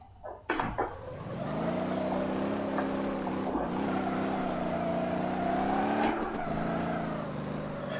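Engine of a car drifting on a race track in the video game Motor Town, a steady sustained drone that holds at one pitch, with a few short bumps near the start and two brief shifts partway through.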